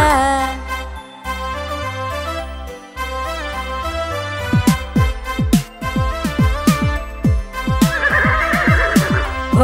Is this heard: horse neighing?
yes